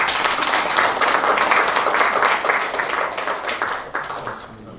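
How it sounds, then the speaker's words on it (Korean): A church congregation at a Sunday worship service claps together, a dense, lively burst of applause from the pews that stays steady, then thins slightly toward the end. "우리 그런 의미에서 박수를 한번"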